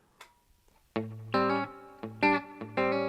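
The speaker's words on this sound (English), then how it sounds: "So I add the reverb." Electric guitar with reverb, slapback echo and compression in a classic country tone, a few twangy notes and chords ringing out with a short echo tail, close and clear without talk.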